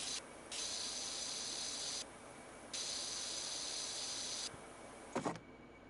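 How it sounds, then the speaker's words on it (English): A spray nozzle in a cleaning video game hisses in three long, steady bursts separated by short pauses, ending with a brief clunk. "I'm just talking right now and spraying to see how the sound works."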